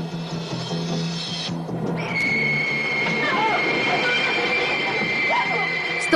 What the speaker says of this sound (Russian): Столкновение поездов